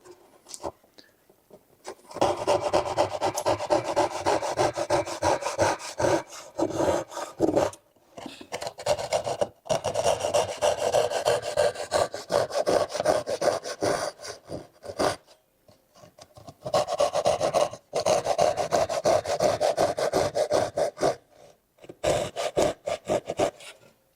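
Hand saw cuts through wood for a book stand in rapid, rhythmic rasping strokes, close and clear, pausing briefly several times before resuming.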